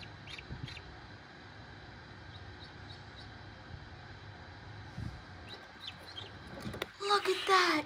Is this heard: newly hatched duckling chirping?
yes